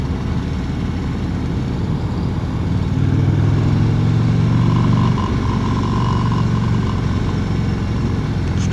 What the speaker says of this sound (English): Good sounding pipes. I do like the sound of these pipes.